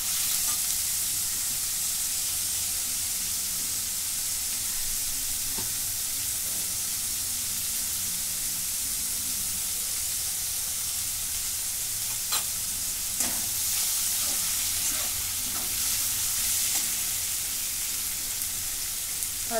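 Tomatoes and fried green chillies sautéing in a pan, a steady bright sizzle and hiss lasting throughout, with occasional soft stirring scrapes and clinks near the end.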